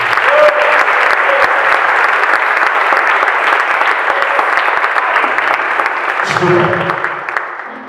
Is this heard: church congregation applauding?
yes